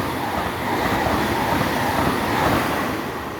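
A train pulls into Saint-Denis station, a steady broad rumble of wheels and carriages that holds close and loud, easing slightly toward the end.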